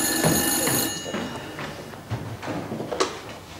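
An old telephone bell rings in a 1987 Greek comedy film scene, its bright ringing strongest at the start and fading, with a few thumps and a brief ring burst near the end.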